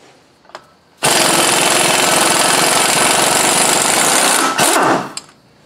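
An impact gun hammers loose Loctite-secured flywheel bolts in one long, loud, continuous burst of rattling, with a brief lower rumble near the end and quieter shop sounds before and after.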